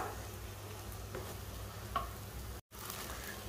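Mashed banana halwa mixture cooking in a pan, a soft continuous frying hiss with faint stirring clicks, quiet and close, cut by a brief dropout near the end.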